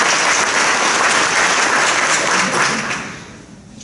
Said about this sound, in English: Yeah, go ahead and clap for Mr. Garman.